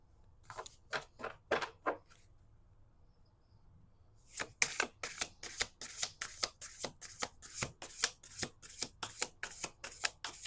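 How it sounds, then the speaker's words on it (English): A deck of playing cards being shuffled at a table: a few quick riffles, a pause of near silence, then a longer run of crisp, rapid card flutters close to the listener, with no talking. "I'm going to do one more shuffle."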